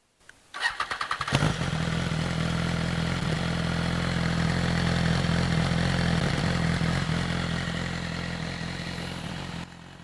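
A BMW S1000RR superbike fitted with a Taylormade exhaust cranks and fires, then settles into a loud, steady, throaty idle that runs close to the mic with no talking.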